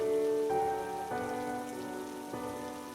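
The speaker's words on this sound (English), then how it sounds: "As the rain poured relentlessly outside" Heavy rain pours steadily during a storm, a dense continuous hiss of drops on a surface, with a faint tonal music bed underneath and no voices.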